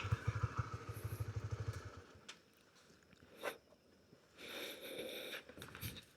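A Honda CB150R motorcycle engine idles at night with a low, rapid pulsing throb that is fairly faint, then fades into quieter rustling and scattered clicks.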